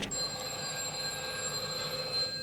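A telephone rings with a steady electronic trill, moderately loud and alone, with faint background hum.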